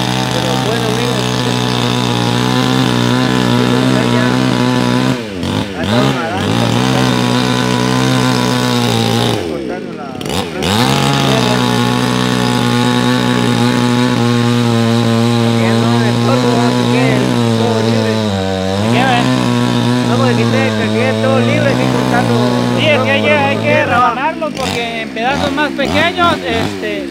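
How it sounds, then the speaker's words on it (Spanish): A chainsaw cuts through tree roots and logs in a yard cleanup. The engine drones loud and close for the whole stretch, with a few brief dips as the cuts bite and ease. "Todavía falta eso que van a cortar con la motosierra."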